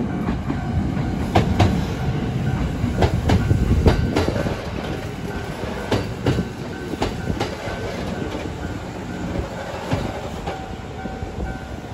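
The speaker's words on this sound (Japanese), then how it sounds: "伊勢若松行きのね、 列車が入線してくるようです。" A Kintetsu train bound for Ise-Wakamatsu pulls into a station with a loud, continuous rumble and rhythmic clickety-clack of wheels over rail joints, close by and steady throughout.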